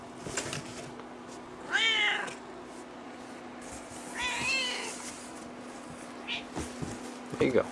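A cat sitting in a cardboard box meows twice in drawn-out cries, then gives a brief softer mew, all close and fairly quiet over a steady low hum and faint rustling.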